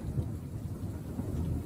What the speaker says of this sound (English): Lightning just cut that tree in half.